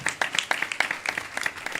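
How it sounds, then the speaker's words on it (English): A short burst of clapping from a group of people at a devotional program in Edison, New Jersey, quick uneven hand claps with no speech. "Let us give one round of applause for all of us"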